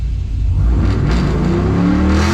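A 1992 Chevy C1500 pickup with a swapped LS1 V8 revs hard from idle, the engine note climbing steeply and loudly up toward the rev limiter and holding there, close and strong.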